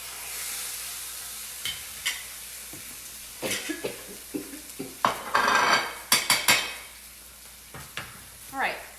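Salmon fillet pan-sautéing skin side down in a hot pan, giving a steady soft sizzle broken by several sharp clinks and scrapes of utensils against the pan, with no talking.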